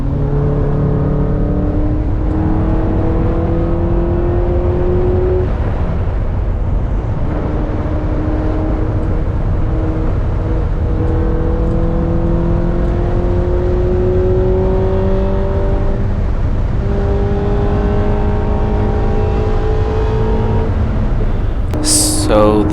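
A car's engine droning at a track-day lap, loud and close from inside, with rising and falling whine as it accelerates through gears and brakes into corners, continuous throughout.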